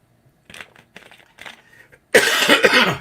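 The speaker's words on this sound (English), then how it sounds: "I think I'm going to cough right now" A loud, harsh cough bursts out near the end after a few faint rustles and breaths, close and abrupt.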